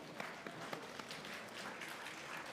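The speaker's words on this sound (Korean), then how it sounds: "우리 하나님께 영광의 박수 올려드리겠습니다" Congregation clapping in praise at a joint Easter worship service, steady but faint and distant, with scattered sharper claps across a short stretch.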